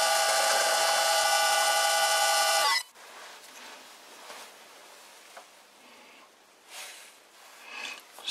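Metal lathe turning down a tapered tap follower, a loud steady high whine with bright overtones for about three seconds that cuts off abruptly, then faint workshop scraping and handling noises.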